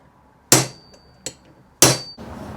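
Three sharp metallic punch strikes dent a golf club shaft near where its two sections join, each a loud close impact with a brief ringing decay, the second softer, at irregular spacing with no talking.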